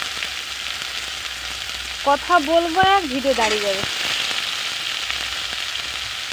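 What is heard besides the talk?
frying panch phoron, dried chili and onion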